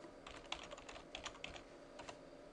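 Credentials being typed on a computer keyboard: a quiet run of quick, light key clicks in irregular bursts against a faint background hum.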